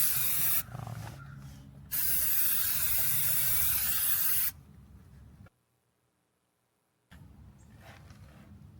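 Long hissing bursts of a black aerosol spray can sprayed on a 1973 Ford Maverick, a brief pause between the first two, then quieter spraying and a silent gap before it resumes.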